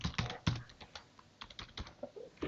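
Quiet, close typing on a computer keyboard, an uneven run of soft clicks and key taps with brief pauses between bursts.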